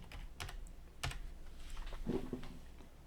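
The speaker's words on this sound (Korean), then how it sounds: "스페이스를 누르고 가닥수를 적고요." Rapid clicking of a computer keyboard as entries are typed into an estimating database, with irregular keystrokes and a few heavier taps, close and clear.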